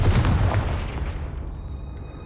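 A Confringo fire spell explodes in a Hogwarts wizarding video game near a cave entrance, one heavy booming blast that rumbles loudly and then fades in a long decaying tail.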